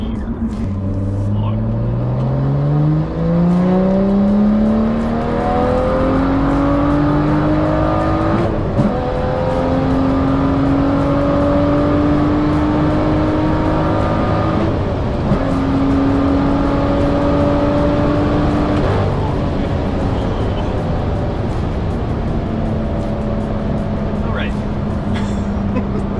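A loud tuned BMW M2 (F87) engine revs hard and climbs in pitch, briefly dropping at each shift and pulling up through third, fourth and fifth gear in a continuous run.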